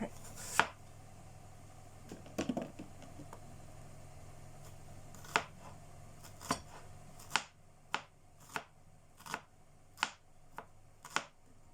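Sausage sliced very thinly on a board for a Wurst salad, sharp knife chops landing one at a time, irregular at first and then in a quicker, steady run, close and clear in a quiet kitchen.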